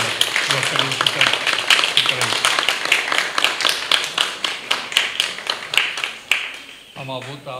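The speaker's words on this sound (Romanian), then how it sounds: "Am avut aplaudători astăzi aici." Applause and rhythmic clapping from a congregation inside a church during a Romanian Orthodox service, a steady run of sharp claps lasting several seconds before fading, with voices murmuring underneath.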